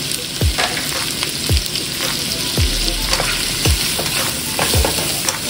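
Onion, carrots and hotdog sauté in a pan: a loud, close sizzle holds steady while a utensil scrapes and taps in a regular rhythm about once a second. No one speaks.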